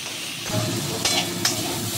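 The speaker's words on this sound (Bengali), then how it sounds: "এবার আমি ডিমের শাকটাও এতে দিয়ে নিচ্ছি, একসঙ্গে ভেজে নেবো।" Diced potatoes and egg greens frying together in a pan, a steady broadband sizzle with a couple of sharper stirring scrapes as the mixture is turned, close and moderately loud with no talk.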